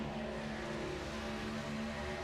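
NASCAR Truck Series trucks roaring around Talladega in a racing video game, a steady, dense engine drone with sustained tonal whine and no break across the stretch.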